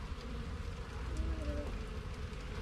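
Honey bees hum steadily around an opened hive, a faint continuous buzz with a soft distant murmur beneath it.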